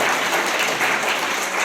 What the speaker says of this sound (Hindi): बच्चों की कि वो हर सेंटेंस के बाद ताली बजा देते हैं